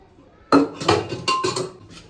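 Metal clanks and clinks from a pressure cooker lid being handled and twisted in a home kitchen, three or four sharp knocks in quick succession, close and fairly loud, with no talk.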